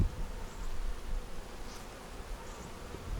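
Honeybees fighting at the bottom of an outdoor hive on a mild day, a faint steady buzzing with a few brief louder passes of individual bees.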